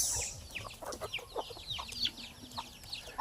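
Native chickens on a farm clucking in short bursts, several birds nearby, with quiet background between calls.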